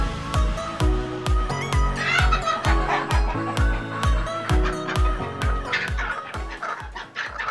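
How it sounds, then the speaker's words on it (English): Bushveld chickens on a poultry farm give repeated rhythmic clucks and calls, close and fairly loud, over a steady pulsing thump with a busy background. "This is a Bushveld chicken, alright?"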